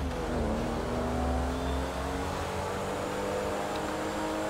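Engine of a silver car in the GTA 5 video game, a steady loud drone with rising and falling harmonic tones as it revs and accelerates, continuous throughout with no talk.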